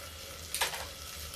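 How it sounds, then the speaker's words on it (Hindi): Masala frying in a pan for a ridge gourd and masoor dal sabji, a low steady sizzle with one brief louder crackle and stir midway, close and without talk. "देखिए भून गया मसाला मेरा"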